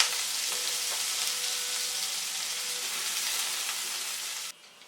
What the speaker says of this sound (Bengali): প্রথমে আমি সরিষার তেল এখানে গরম করে আলুগুলাকে একটু ভেজে নিব।